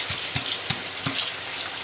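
Tap water running steadily from a kitchen faucet into a sink, a continuous hiss with a few soft splashy bumps, close and fairly loud, no talking.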